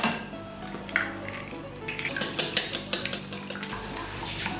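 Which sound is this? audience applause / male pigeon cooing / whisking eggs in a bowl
whisking eggs in a bowl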